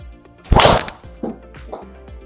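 A Ping G440 Max golf driver strikes a ball with one loud, sharp crack, followed by a few fainter knocks and thuds as the shot rings away.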